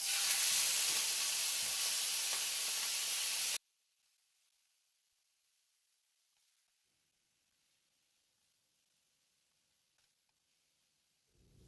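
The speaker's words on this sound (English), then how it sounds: "We've got a little bit of oil in there that's coming up to a smoke. We're going to sear off just a little bit of meat." Beef searing in smoking hot oil in a pan, a loud close sizzling hiss for about three seconds that then cuts off to near silence.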